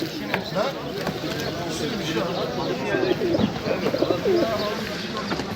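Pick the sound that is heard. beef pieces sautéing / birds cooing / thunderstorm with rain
birds cooing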